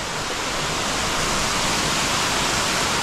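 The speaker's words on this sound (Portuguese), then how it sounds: "Mas a cachoeira tá ali, ó." Rain-swollen waterfall flowing into a deep pool beneath a road on the running route up to Vista Chinesa, Rio de Janeiro: a steady, loud, broadband roar of rushing water, continuous and close, with no voices.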